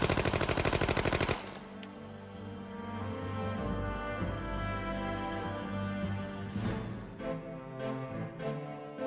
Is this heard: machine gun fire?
yes